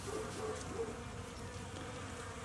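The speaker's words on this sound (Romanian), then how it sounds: "Aici albinuții se apără, la cât de puține sunt, mai se și atac între ele" Honeybees buzz steadily at a hive in an apiary struck by varroa mites, a dense, close, continuous drone with no voices.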